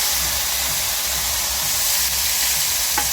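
Onion and garlic paste sizzling in hot oil, following fried bay leaves and dried red chillies, for a duck curry; a steady, close, loud hiss carries on without a break and has no talk over it.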